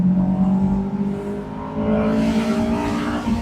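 A Honda S2000 engine pulls in third gear with a loud, steady drone that rises in pitch, briefly dips as if off throttle, then climbs again, heard from inside the car with no talk.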